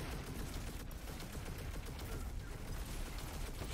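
In Destiny 2, a Barrier Colossus enemy fires in a fast, steady stream that sounds like distant rapid gunfire, faint and continuous under a dense game soundscape.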